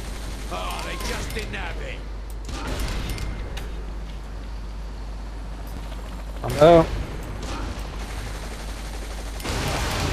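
Gunfire in the video game Saints Row: The Third, bursts of shots and mechanical clatter under a steady background hum, with one sharper loud burst midway and a voice talking over parts of it.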